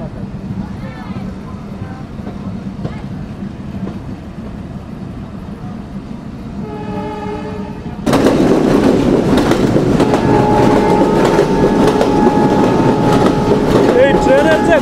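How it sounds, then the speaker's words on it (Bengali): The Betna Express passenger train running from Khulna toward Benapole rumbles steadily, heard from on board, quieter at first with a tonal hum, then suddenly louder with rattling and clatter; a voice speaks faintly underneath. "সিঙ্গিয়া জংশন থেকে আমাদের ট্রেন ছেড়ে দিল।"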